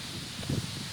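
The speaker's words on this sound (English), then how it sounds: "It's windy." Wind from tropical storm Fay stirs backyard trees into a soft, steady rustle with a slightly louder gust near the middle; brief and fairly quiet, with no talking.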